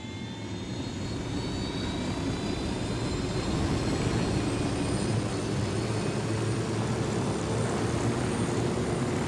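A cartel helicopter armed with miniguns flies in a video game set in Bolivia, giving a steady, loud rotor and engine roar that holds unbroken for the whole stretch, with no talking.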